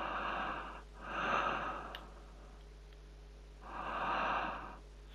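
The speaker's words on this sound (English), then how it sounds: "It's really eerie, that breathing sound." Eerie breathing in The Bunker video game: two slow, drawn-out breaths, the first at the start and the second near the end, close and fairly loud over a quiet low hum.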